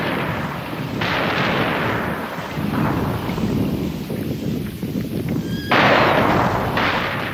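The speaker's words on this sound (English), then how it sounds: "Exploding in their thousands on the land beyond the salient, the shells were tossing the earth into a moonscape of hillocks and craters" Artillery shells of a World War I bombardment near the Passchendaele salient explode continuously as a dense, rumbling roar with heavy booming bursts, loud and sustained, rising in a sudden surge near the end.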